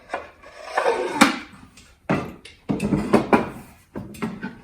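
A wooden box with a sliding top and walnut pull, its lid scraping and rubbing along the grooves in several separate strokes, near and fairly loud.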